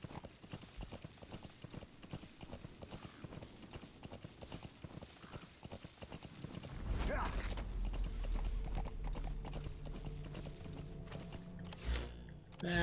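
Horse hooves clip-clopping in a video game, a steady run of close rhythmic hoofbeats that gives way midway to a louder low rumble of movement with a faint creak near the end.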